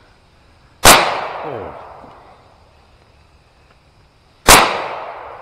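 Two sharp, very loud gunshots ring out in a wooded area about four seconds apart, each followed by a long echoing decay through the trees, with a brief exclamation from a man nearby.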